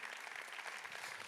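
Audience applauding at an award ceremony, a brief, dense burst of steady clapping heard at a distance without voices.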